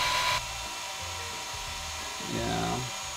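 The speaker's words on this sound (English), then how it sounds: "Kitchen does not like the sound of the blow dryer and she will not get anywhere near it." A blow dryer whirs steadily on a cat at a cat show, a broadband rushing hum, briefly louder at the start and again near the end as it moves closer.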